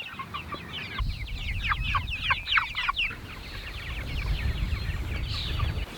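Several backyard chickens cluck in quick overlapping bursts, fairly close, over a low rumbling background during rain in a garden.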